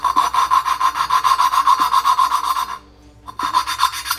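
Valve lapping inside a Honda GX270-type Predator 301cc engine with a suction-cup stick tool: a steady, rapid run of scratchy back-and-forth rubbing strokes, close and fairly loud, stops briefly near the end, then resumes. No one speaks.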